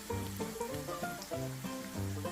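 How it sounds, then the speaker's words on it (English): A chicken burger sizzles in a very hot pan, a steady close frying hiss running through with tonal background sound layered over it. "let's get a nice sizzle on it"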